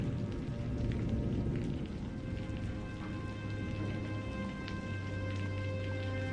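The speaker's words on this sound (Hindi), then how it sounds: "तेज बारिश फिर शुरू हो चुकी थी।" Heavy rain falls steadily in a village, a dense continuous hiss with a low hum underneath and faint scattered drips, unbroken and without any talking.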